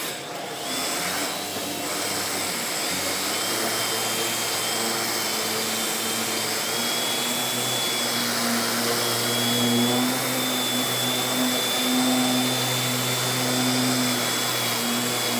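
A random orbital sander with a 3/16 inch throw, rated 3,200 to 12,000 RPM and built for shaping body filler, runs with a steady, loud whirring drone and a whining hum, heard alone at a tool dealer expo.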